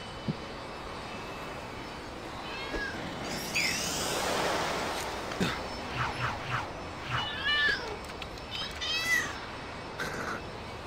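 Several cats meow in the Lego City Undercover video game at an airport level, a string of short, clear meows rising and falling over a steady engine-like background hum, with no talking.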